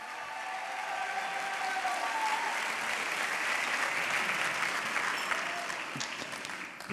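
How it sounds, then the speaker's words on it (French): An audience at an awards ceremony gives sustained, dense applause that swells steadily, holds for several seconds and then tapers off, with little talk over it. "Encore bravo, on peut les applaudir très fort."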